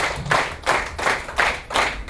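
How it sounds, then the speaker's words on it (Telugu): Rhythmic clapping from a group, about five regular bursts of hands striking together, loud and close, with no voices. "grand applause sir"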